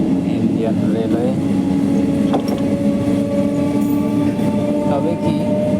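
Indian Railways local train running through the night, a steady loud rumble of wheels on track with clattering and faint horn-like tones, continuous throughout with indistinct voices mixed in.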